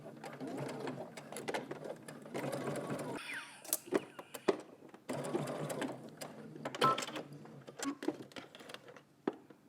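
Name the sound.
sewing machine stitching down a folded strap end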